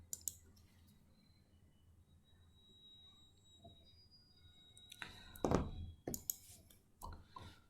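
A computer mouse clicks on a Done button in Power Automate, giving a few faint, sharp clicks and small taps near the end amid quiet room noise.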